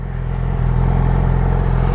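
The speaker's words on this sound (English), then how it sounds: "We got a powered 4-cylinder engine here." A 2016 Yamaha R6 inline four-cylinder engine idles in neutral, giving a steady, close, loud low rumble with a slight rise in level partway through and no talking.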